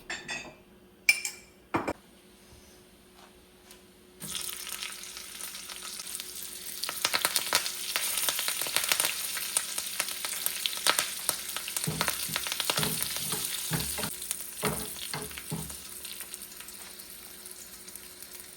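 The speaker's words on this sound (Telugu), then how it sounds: "ఒక చిన్న పాన్‌లో నెయ్యి వేడి చేసి, అందులో జీలకర్ర, పచ్చిమిర్చి, కరివేపాకు వేసి తడకా ప్రిపేర్ చేస్తున్నాను." Cumin seeds, green chillies and curry leaves sizzle loudly in hot ghee in a small pan, a tadka for jeera rice: a few clinks first, then a steady crackling fry with sharp pops, close up and with no voices.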